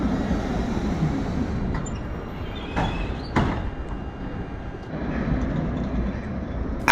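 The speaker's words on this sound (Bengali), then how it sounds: "আনাগোনা শুরু হয়েছে ট্রামের।" A tram runs through the streets of Sofia, Bulgaria, at dawn. Its steady rumble and rail noise fill the whole stretch with a few sharp squeals and clanks along the way, and no voices are heard.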